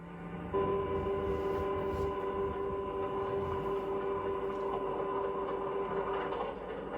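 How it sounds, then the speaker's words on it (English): Freight train number 40 winding slowly through the yard tracks leading out of a freight station, a steady rumble with a sustained tonal whine, continuous and moderately distant. "Freight train number 40 is carefully winding its way through the many tracks that lead out of the freight station."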